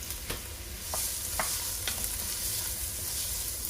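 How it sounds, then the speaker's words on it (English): A medium onion, finely diced, sautés in a pan for Southern field peas, giving a steady close sizzle broken by a few sharp scraping stirs, with no talking. "we're going to saute this until it's translucent."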